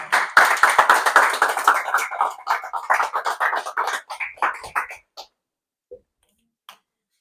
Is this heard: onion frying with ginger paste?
no